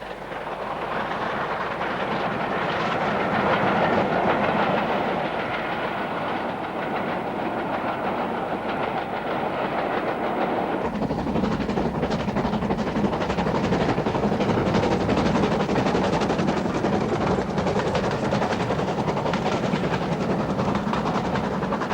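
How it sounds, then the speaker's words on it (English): A steam-hauled cross-country train passes on a line near Tilehurst, a continuous loud rumble and rolling wagon noise with clickety-clack, lasting the whole time and growing heavier partway through. "This section of line saw a number of cross-country trains working from Oxford to the southern region."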